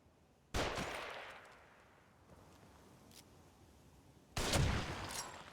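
Gunfire in the survival horror game The Evil Within: two loud, sharp bursts about four seconds apart, each fading slowly into a quiet, hollow room tone.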